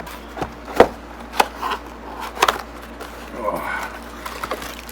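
A Buck Trunk fixed-blade knife slices through packing tape to open a package: a few sharp, close cutting and tearing snaps with quieter rustling of tape and cardboard between them.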